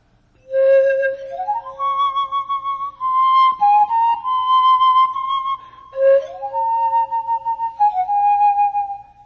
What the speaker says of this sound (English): Of course, this is the sound of the panpipe.